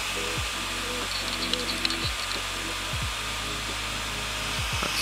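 A Voxelab Aquila 3D printer begins its first print, with a steady fan whir under high stepper-motor whines that jump and slide in pitch as the head moves, close and continuous with no talking.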